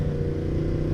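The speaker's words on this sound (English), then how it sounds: "can sound like this one does if you put a nice exhaust on it" A Yamaha MT10 motorcycle fitted with an aftermarket exhaust holds a steady, loud engine drone with a strong low hum, heard up close with no one speaking.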